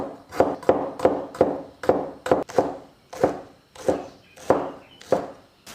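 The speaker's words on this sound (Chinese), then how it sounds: "姜、葱、蒜，把它切成片。" A knife chops ginger, scallion and garlic into slices on a cutting board, in preparation for a Sichuan-style razor clam dish: about a dozen crisp, close knocks in a steady, slightly uneven rhythm, with no talking.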